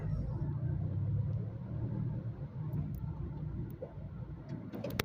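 A car slowly pulled out of a cramped parking spot with little space in front, a steady low engine rumble close by with a few faint ticks over five seconds.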